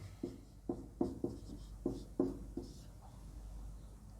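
A pen or pencil writes by hand on paper, with about seven short scratchy strokes in an uneven rhythm, faint and close in a quiet room.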